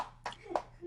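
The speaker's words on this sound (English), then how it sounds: "Well, you are applauding." A few hands clap in applause, three distinct, fairly close claps spaced unevenly within a second.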